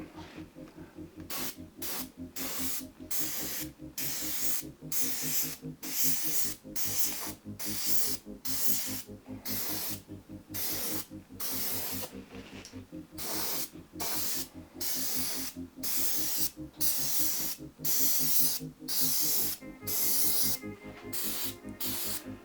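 Spray paint from an aerosol can hisses in steady bursts as a first coat goes onto interior parts of a Porsche 928, with regular short pauses between close, even passes.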